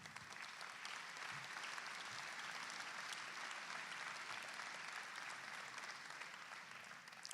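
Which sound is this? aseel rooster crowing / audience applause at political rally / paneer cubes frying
audience applause at political rally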